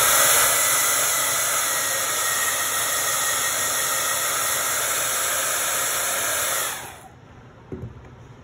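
A hair dryer blows steadily and loudly, drying green and white paint on a froggy craft, a broad continuous whoosh that runs for about seven seconds before switching off, leaving near silence and a small knock.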